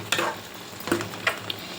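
Marinated chicken pieces, spiced hot with chili, fry briefly in a pan with a few short stirring scrapes and soft sizzling bursts, close and moderately loud with no talking.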